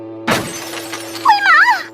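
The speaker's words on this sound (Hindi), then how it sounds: "शीशा टूट जाएगा।" A cartoon glass mirror shatters in a single sharp, loud crash with a brief ringing tail, followed by a wavering high animated voice.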